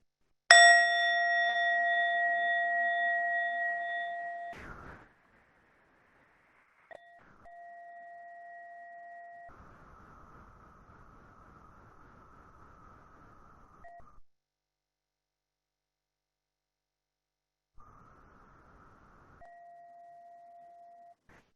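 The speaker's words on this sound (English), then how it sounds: "we'll close listening to the sound of the bell" A mindfulness bell rings clearly at the close of a meditation session, its bright tone sustaining and fading over several seconds, followed later by softer, quieter resonant chimes with gaps of silence between.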